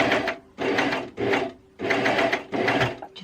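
A coverstitch sewing machine stitches fabric over a seam in short, close bursts of rapid mechanical whirring, separated by brief pauses.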